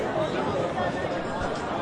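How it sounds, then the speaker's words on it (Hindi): Crowd chatter at a busy market in a cartoon, a dense, steady babble of many overlapping voices close by with no single sound standing out. "अरे यहां इतनी भीड़ क्यों है?"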